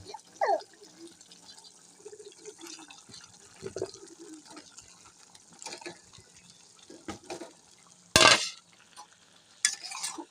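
Eggplant pieces tipped into a pan of fried spice paste and potatoes and stirred, giving quiet scraping and faint sizzling with a couple of loud clattering bursts near the end; no voices.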